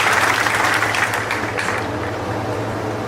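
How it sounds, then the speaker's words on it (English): A graduating class gets a final round of applause at a high school commencement, a steady wash of clapping from a large audience that eases slightly after the first second. "Give a final round of applause to all of our graduates"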